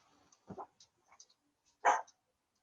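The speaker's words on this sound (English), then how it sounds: "My dog's barking." A dog barks a couple of short times, the barks brief and somewhat distant, with quiet pauses between them and no talking.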